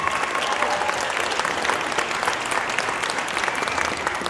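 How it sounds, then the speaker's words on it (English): Steady audience applause fills a winter jazz concert hall, dense and continuous clapping from a large crowd without a break, close and full. "So please, a big round of applause for Alec and the auditorium team."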